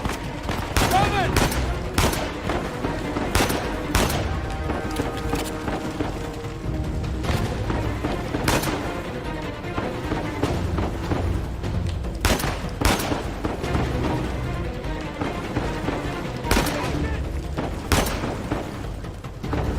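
Dense gunfire from the video game Uncharted 4, with rapid bursts, booming shots and automatic fire crackling continuously throughout, some sharp loud reports standing out, and faint voices mixed in.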